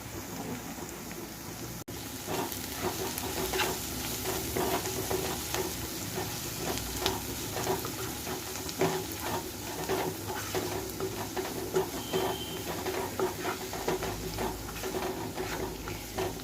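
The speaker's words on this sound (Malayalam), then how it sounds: "ഇതിനി നന്നായിട്ട് ഇളക്കി കൊടുക്കുക" Spices stirred into a snack filling in a pan, a continuous gentle sizzle with repeated scraping and tapping of the spoon, steady and close, no voices.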